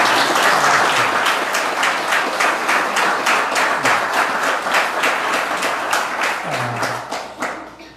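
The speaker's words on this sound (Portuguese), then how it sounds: "Vamos dar mais uma salva de palmas para Jesus" A church congregation gives a round of applause for Jesus, a loud, dense, steady patter of many hands clapping together, fading slightly toward the end.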